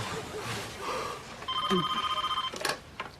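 A telephone rings with a fast warbling electronic trill that repeats in two bursts over steady room noise, loud and near, in a French-language scene.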